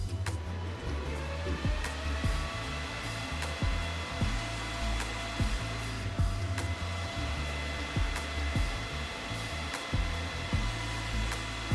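Canaweld AC DC 201 TIG welder, a 220-volt machine, humming steadily after power-up with a constant fan-like whir and faint periodic clicks throughout.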